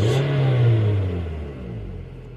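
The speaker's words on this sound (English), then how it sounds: "if I do a wide open throttle acceleration" A car engine at wide open throttle, its loud close roar rising in pitch and then easing off over a couple of seconds with no voices.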